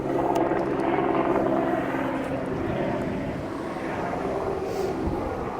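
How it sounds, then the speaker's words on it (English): Helicopters flying overhead in open country near wild mustangs: a continuous low rotor and engine drone, fairly loud and steady throughout with no talking. "We got helicopters flying over."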